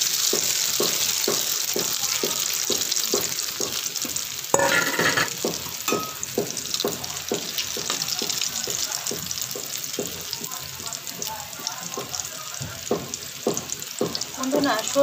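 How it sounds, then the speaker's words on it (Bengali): Beaten egg hits hot mustard oil in a pan, giving a steady, loud sizzle with rhythmic stirring or scraping strokes throughout and a brief burst of harsher frying midway. "এখন আমি এই যে তেলটা হয়ে এসেছে দেখেন, সরিষার তেলটা, এখন এর মধ্যে আমি ডিমটা ঢেলে দেব।"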